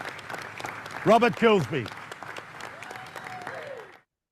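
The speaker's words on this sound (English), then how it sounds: "Let's give him a round of applause" An audience at a motivational speaking event applauds steadily for about four seconds. A presenter's voice announces a name over the clapping before it dies away.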